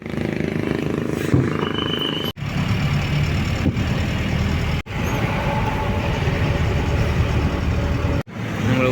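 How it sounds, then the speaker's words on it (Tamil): Loud roaring rumble of a lorry passing close by on a highway, steady and broadband over several seconds, with the roadside traffic noise continuing around it. "உங்களை விட்டு போன லாரி."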